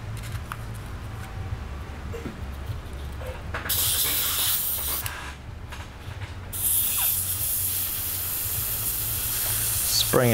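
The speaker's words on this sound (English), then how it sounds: "All right, so I sprayed out the excess." Airbrush flushing excess paint out of its cup during cleanup, a steady airy spray hiss that starts and stops in a couple of bursts over a low background hum.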